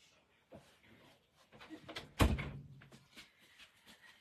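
A door being opened in a home: light rustling and handling noises build to one sharp knock-like thud at the midpoint, followed by quieter bumps and shuffling nearby.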